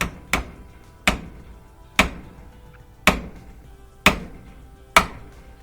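A drift pin is hammered out of a GMC power seat motor: six sharp metallic taps about a second apart, each with a short ring, close by and without talking.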